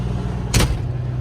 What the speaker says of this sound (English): I need to get in the truck and close the door